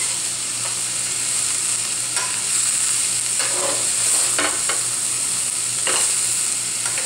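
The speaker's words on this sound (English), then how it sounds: "And now I'm going to add my delicate baby Swiss chard, my spinach, and baby kale." Baby Swiss chard, spinach and baby kale sizzle steadily in a hot pot, a dense continuous frying hiss with occasional stirring scrapes and clicks, close and without talk.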